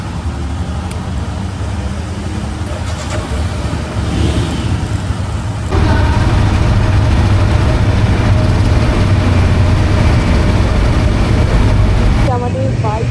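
Motorcycle engine rumbling low and steady as a first bike trip sets off from Shimla toward Sangla on the Spiti circuit, getting louder partway through, with people talking over it.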